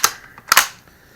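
A Swiss K31 straight-pull bolt-action rifle being dry-fired, a couple of sharp metallic clicks close up as the trigger breaks, with a faint lighter tick between them and quiet afterwards.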